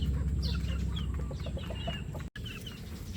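Small chicks peeping and cheeping in a steady chorus, close and continuous, with short high calls overlapping throughout.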